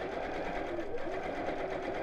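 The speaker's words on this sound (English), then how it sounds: "now I'm just going to sew around the edge of the heart" A sewing machine runs steadily, stitching around the edge of a fabric heart at a 2.6 stitch length for a simple mat, a close, continuous mechanical whir with a fast, even needle rhythm.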